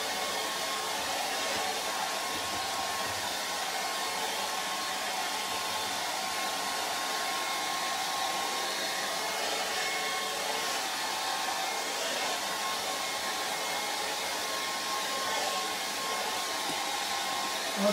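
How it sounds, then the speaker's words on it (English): A hair dryer runs steadily to dry paint on a charcoal and acrylic portrait, a continuous, even airy whir held at one level throughout with no voices. "And then I'm hair drying."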